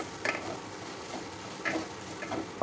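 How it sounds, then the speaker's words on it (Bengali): Fried ghusho fish is tipped into a pan and stirred, giving a soft continuous sizzle with a few light scraping and clinking accents of the spoon against the pan, quiet and close, with no talking. "এরপর আমি দিয়ে দেবো ভেজে রাখা ঘুষো মাছ।"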